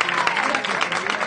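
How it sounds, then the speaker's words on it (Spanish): A crowd at a street protest in Murcia gives a big ovation, steady dense clapping filling the short stretch at close range, with voices mixed into the noise. "Vamos a dar una ovación grande,"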